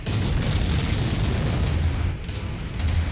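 Missile explosions in the Mechwarrior 5 mech combat game form a loud, sustained low rumble of booms, briefly easing and then surging again near the end.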